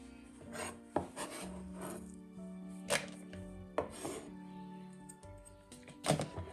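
A knife chops chives or green onion on a cutting board, giving a handful of sharp, irregular thunks spaced about a second apart over a steady background hum, close and fairly loud, with no talking.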